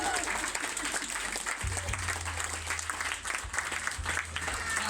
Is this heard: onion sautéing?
no